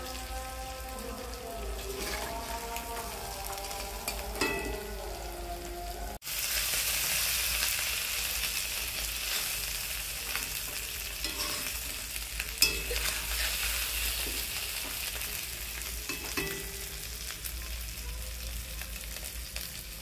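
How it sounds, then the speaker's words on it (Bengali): Small fresh puti fish crackle and sizzle in oil as they fry crisp, a dense, steady bubbling hiss that carries on for a long stretch, with faint music at the start. "ছোট পুঁটি মাছ মুচমুচে করে ভাজি ফুটতেছে, তার মানে ভাজিটা কমপ্লিট"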